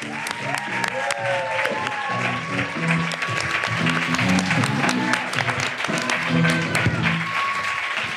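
A studio audience at a podcast taping claps loudly and steadily to welcome a guest, a dense, close wash of applause that fills the whole stretch, with a few voices and cheers mixed in.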